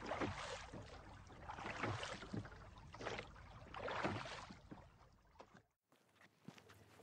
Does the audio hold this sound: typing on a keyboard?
no